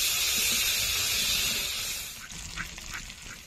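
Baby potatoes with salt and turmeric sauté in a hot pan with a bright, steady sizzle. The sizzle eases and grows softer toward the end.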